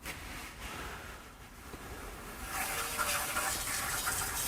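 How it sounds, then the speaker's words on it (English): Water sprays outdoors as people wash their cars nearby, a steady hissing rush that grows louder and brighter partway through, with no talk. "there are a few people washing their cars out there now. I hope you can't hear all the water spraying."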